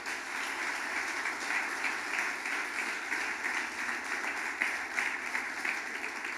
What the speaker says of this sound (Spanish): Alguien que diga amén a eso y aplauda fuerte al Señor.